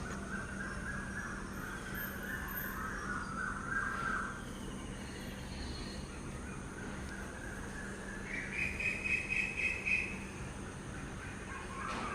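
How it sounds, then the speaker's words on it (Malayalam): Birds wake and call outdoors at dawn, crow-like caws and other bird calls rising in a couple of bursts over a quiet, faint background with a steady low hum, and no one speaks. "കിളികളൊക്കെ ഉണർന്ന് കരയാനൊക്കെ തുടങ്ങിയിട്ടുണ്ട്"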